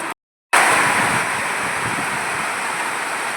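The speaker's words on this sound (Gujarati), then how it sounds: "અચાનક વરસાદ ચાલુ થઈ ગયો." Sudden rain pours down over a village, a dense, loud, even hiss that cuts out completely for a moment at the start and then returns and holds steady.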